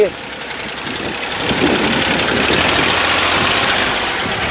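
A Kubota L2202 four-wheel-drive tractor with rotary attachment, its diesel engine idling with a steady, close mechanical drone at a dealer's lot, with a voice speaking over it.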